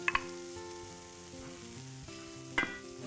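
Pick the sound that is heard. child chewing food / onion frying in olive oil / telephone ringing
onion frying in olive oil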